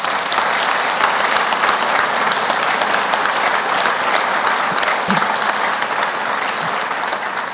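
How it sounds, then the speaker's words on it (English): Commencement audience giving a loud standing ovation at an architecture, planning and design graduation, dense, sustained clapping from a large crowd throughout. "How about standing up and giving them a hearty, warm round of applause to these people that are here?"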